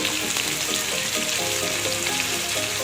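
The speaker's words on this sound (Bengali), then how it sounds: "তেল গরম হয়ে গেছে এবার চিংড়ি মাছ দিয়ে দেবো" Shrimp fry in hot oil for a cabbage dish, a dense, steady and fairly loud sizzle that crackles on without pause, with no voices.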